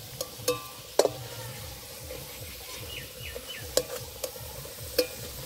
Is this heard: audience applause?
no